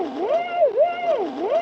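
A sampler sustains a note built from a skateboarding child's joyous woop, looping so the pitch swoops up and down in a repeating wavy cycle, close and steady.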